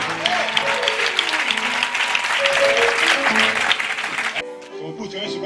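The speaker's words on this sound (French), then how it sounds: "Put your hands together for the bishop." A church congregation at a Sunday service applauds for the bishop, dense sustained clapping from a large crowd with voices talking over it, then fading into a quieter patter at the end.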